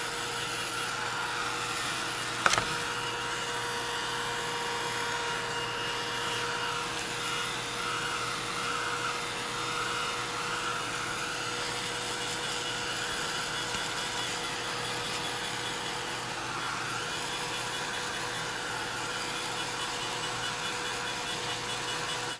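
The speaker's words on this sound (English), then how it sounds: "I'm going to hit these both with the heat tool and make sure they're good and dry." A heat tool drying die-cut craft paper for a Christmas card project gives off a loud, steady whirring blow that runs unbroken for over twenty seconds, with one brief knock near the start and no talking.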